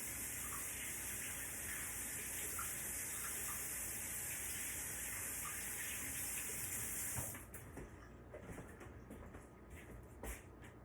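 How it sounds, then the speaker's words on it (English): A tap runs steadily for about seven seconds while hands are washed, then shuts off. Soft drips and light handling noises follow, all faint and close in a quiet kitchen. "let me wash my hands so I can seal the bowl."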